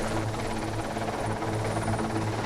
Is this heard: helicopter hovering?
yes